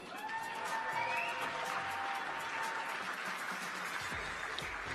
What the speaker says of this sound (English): please give a round of applause to the fourth place team